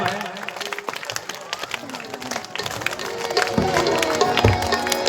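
A crowd claps at a Ramlila performance in Vrindavan, a dense, steady patter that grows louder toward the end, with voices sounding through it.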